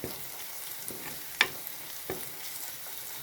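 Onions, shallots and green chillies sauté in a pan while sardines in chilli curry are cooked, a soft steady sizzle with a few light stirring scrapes, close and faint.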